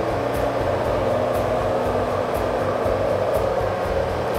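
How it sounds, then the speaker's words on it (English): An engine-powered JLG boom lift drones steadily at slow turtle and creep drive speeds, with a constant close hum and a faint, regular ticking throughout. "Now I'm gonna put the machine in turtle mode and then I'm gonna throw it into creep mode so you can see the difference"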